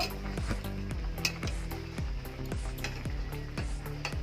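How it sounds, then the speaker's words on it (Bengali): A spoon stirs boal fish curry with potato and eggplant in a hot pan, giving repeated rhythmic scrapes and metallic clinks, close and fairly loud, over a soft steady sizzle. "মাছের ঝোলটা নেড়ে দেব"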